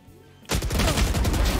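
In a tactical shooter match, a sharp gunshot lands as a headshot, a sudden loud crack after a near-silent moment followed by ringing, rattling echoes and further rapid fire.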